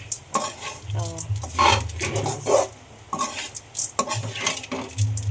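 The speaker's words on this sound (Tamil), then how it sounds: "இப்போ நல்லா கலரணும்" Spoon stirring coconut rice seasoned with salt in a pan on the stove, with continuous scraping and stirring strokes and a low sizzle, close and fairly loud throughout.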